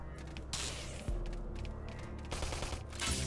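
Rapid bursts of gunfire in a Xenoblade Chronicles X battle, loud and close, with heavy thumps and repeated volleys over a few seconds.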